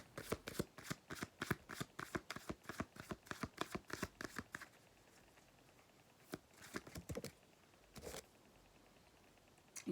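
A deck of tarot cards is shuffled in a rapid run of crisp riffling snaps, then a pause and a few scattered card flicks and slaps, close and clear with no talking.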